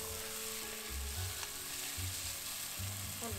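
Masala roasting in a pan for Punjabi kale chole, a black chickpea curry, crackling in a steady close sizzle with no one talking.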